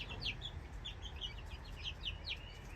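Baby chickens chirp and peep repeatedly in quick high calls, fairly faint over a low steady background rumble, with no talk.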